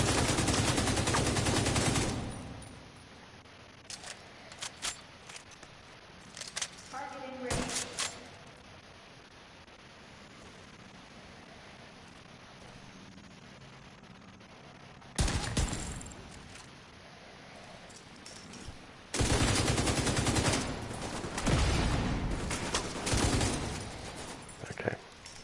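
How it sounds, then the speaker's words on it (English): Gunfire in The Division 2 on PS5, with shotgun blasts among it: loud bursts of shots at the start, a few scattered reports in the middle, then heavy sustained firing near the end over a constant hum of game ambience. "where's that shotgun coming from?"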